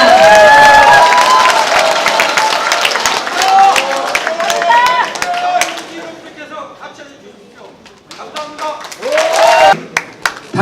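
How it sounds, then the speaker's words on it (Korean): A party convention crowd claps and cheers loudly at first, with voices and whistles over the clapping, then thins into scattered claps and chatter before swelling again near the end. "귀여운 서영 후보에게 큰 박수 부탁드립니다."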